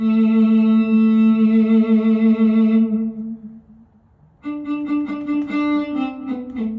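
A Swam physically modelled viola, played from a pressure-sensitive QuNexus keyboard, holds a wavering note with vibrato, fades briefly, then resumes higher with a pulsing, trembling tremolo.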